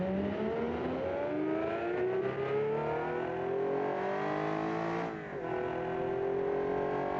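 A Kiev Motors 12 car in BeamNG accelerates hard on a highway, its engine note climbing steadily in pitch, briefly dropping at a gear change, then rising again, loud and continuous with no talking.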